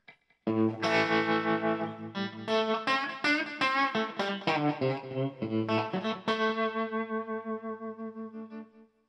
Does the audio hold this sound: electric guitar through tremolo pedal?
yes